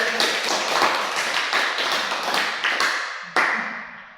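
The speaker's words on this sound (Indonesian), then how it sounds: "Tepuk tangan dulu." A small school group claps together after showing their 3D animal cell model in class, a dense run of hand claps that ends abruptly with one sharp final clap.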